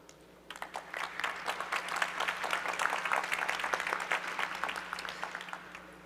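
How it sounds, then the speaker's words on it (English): Sustained applause from a sizable forum audience, dense clapping that swells quickly and holds steady for several seconds. "So please give him with a big round of applause."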